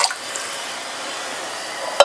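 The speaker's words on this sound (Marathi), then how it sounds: "5 ते 6 ग्लास पाणी घातले" Water is poured into a pot of spiced sprouted lentils for misal, making a steady soft splashing hiss for about two seconds that ends in a short sharp clink.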